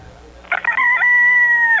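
A rooster crows once in a restaurant radio ad, a loud, close, sustained cock-a-doodle-doo that rises in short bursts and then holds a long steady note, heard alone without talk.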